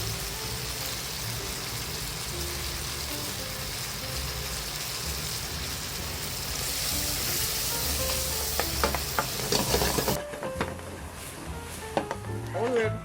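Shrimp stir-frying in butter sauce over a high flame, a steady loud sizzle throughout with clattering spatula scrapes and clinks near the end.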